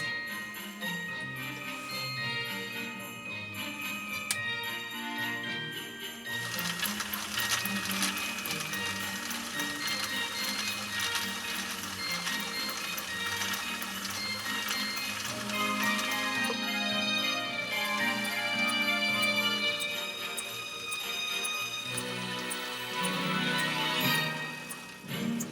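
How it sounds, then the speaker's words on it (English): A 1961 Viking Husqvarna 19E zigzag sewing machine runs in slow gear stitching about 3-ounce cowhide leather, a steady close mechanical whir with rhythmic clatter and a bright metallic ring, continuous and fairly loud throughout. "we're going to sew it with our slow gear"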